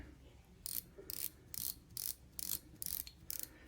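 The bezel on a Lige 8958 watch is turned in short bursts, producing faint, close ratcheting clicks in about eight quick clusters with brief pauses between them.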